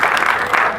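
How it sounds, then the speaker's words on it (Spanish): Brief burst of audience applause greeting a woman introduced at a church gathering, a dense steady wash of clapping with no voices over it. "un aplauso para ella"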